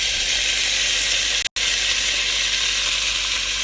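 Onions and peppers are tipped into a hot pan of frying lentils for upma, setting off a loud, even sizzle that runs through the clip apart from one brief silent break.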